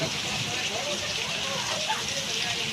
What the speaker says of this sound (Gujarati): બહુ સારો વરસાદ પડ્યો અને હજી પડે છે વરસાદ